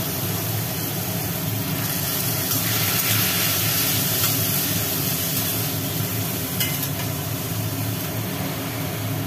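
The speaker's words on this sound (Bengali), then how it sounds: "নুন হলুদ মাখিয়ে রাখা কোটটা কড়ার মধ্যে দিয়ে দেওয়া হলো" Pieces coated in salt and turmeric sizzling in hot oil in a wok after mustard seeds and chilies, giving a steady loud hiss that stays constant throughout.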